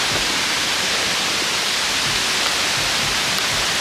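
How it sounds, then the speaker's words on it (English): Heavy rain pours near a river and falls as a dense, unbroken hiss that stays loud and steady throughout, with no voices. "I didn't think the rain could get worse."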